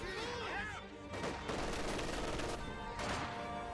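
MG42 machine gun fire in Company of Heroes 2 crackles in rapid bursts among other gunfire and battle effects, steady and moderately loud, mixed with game sounds, while a commentator talks over it.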